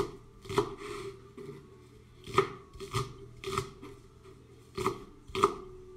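A knife chopping onions on a cutting board for a pasta sauce, a handful of distinct close thuds at an irregular, unhurried pace.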